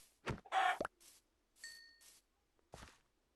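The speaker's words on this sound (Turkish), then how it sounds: "Şu tavuğu da keselim." Minecraft chicken clucking in short bursts, several separate blocky game sounds with gaps between them, fairly quiet and without talk.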